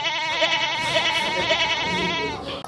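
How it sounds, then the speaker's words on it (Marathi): Goats bleat loudly and close by in a sustained, wavering cry that runs almost unbroken before trailing off abruptly at the end, with no talk. "बकरे बघा"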